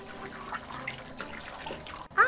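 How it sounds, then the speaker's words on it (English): Regular milk pours into a dog's milk-bath pool as a continuous soft splashing, bubbling trickle that runs fairly close, and a brief sharper splash comes near the end. "I'm just gonna pour some regular milk in"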